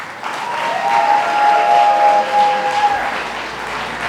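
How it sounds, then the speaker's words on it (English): Applause from wedding guests at a walima reception at Whites Ferry Manor: a steady, moderately loud wash of clapping with a few whistle-like tones over it, easing off near the end. "let's give them one more big round of applause"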